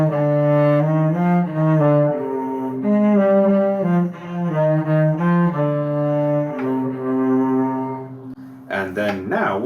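Cello playing a passage from the Gavotte in C Minor in a Suzuki Book 3 practice setting, a steady bowed melody of sustained and moving notes, loud and close, alone until a brief voice near the end.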